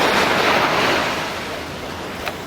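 Ocean waves surging and washing in a steady broadband rush, loud at first and easing off slightly, with wind noise over the microphone.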